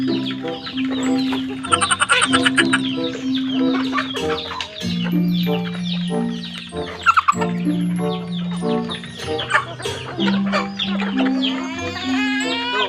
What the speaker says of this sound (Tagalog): Malaking inahin.